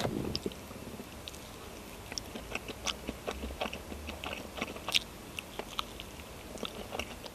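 Grilled small yellow croaker barbecue being eaten inside a car, heard as close, repeated crunchy bites and chewing in an irregular rhythm, fairly quiet, with no talking.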